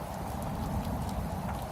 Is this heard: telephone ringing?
no